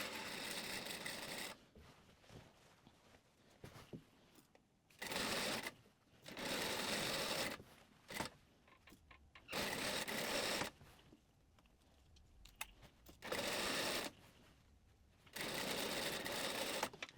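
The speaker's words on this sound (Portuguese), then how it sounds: "eu vou começar costurando a parte da barra para cima" A sewing machine stitching a dress seam in several separate bursts of fast, loud whirring, with short quiet pauses in between while the fabric is handled.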